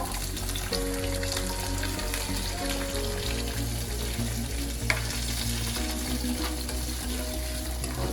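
Mustard seeds and shallots frying in a pan, a steady close crackling sizzle throughout with faint stirring, over a low, constant background hum.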